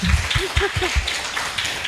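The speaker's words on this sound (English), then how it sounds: "please we will give a warm of round applause again for Professor Reed." A round of applause from a lecture audience after a visiting professor's talk on global economics and public finance, a brief spatter of clapping with a few loud close claps at the start, fading into room noise.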